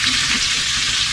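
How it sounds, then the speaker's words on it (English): Sliced onions and peppers fry in a pan for a hoagie topping, giving a loud, steady, close sizzle without any speech. "while these onions and peppers continue to cook down"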